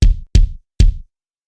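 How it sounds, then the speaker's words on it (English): Bass drum sample in Battery 3 struck three times in succession at soft, medium and hard velocity, each a deep, close thump that decays quickly, followed by silence. "Now your bass drum sounds like this when played soft,"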